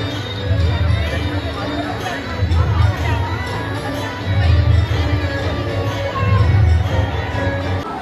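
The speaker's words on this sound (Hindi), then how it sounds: "यहाँ पर तो भीड़ बहुत बहुत बहुत तगड़ी वाली भीड़ हो रही है" A large, dense crowd fills the Faag festival at Govind Dev Ji temple with continuous babble, cheering and children's shouts, swelling in several loud waves close around the listener.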